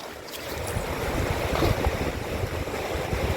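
Ocean waves break and wash on a beach below the White Cliffs of Dover, a loud continuous rushing surf with gusts of wind buffeting the microphone.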